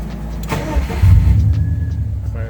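A BMW 2002 car engine idles and rumbles loudly up close on its first drive, a low throbbing note that swells briefly as it is revved.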